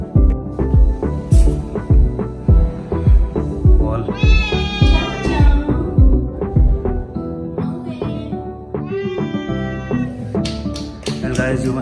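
A pet cat meows in a home during a Diwali celebration, with two drawn-out harmonic cries around the middle of the clip set against steady rhythmic music.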